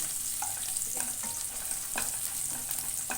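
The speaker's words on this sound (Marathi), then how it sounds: "आता तेल टाकले तेल गरम झालेलं आहे हे लसून बघा मी फ्राय करून घेते" Garlic and green chilies frying in hot oil give a steady, close crackling sizzle with scattered pops and occasional utensil clicks, and no talk.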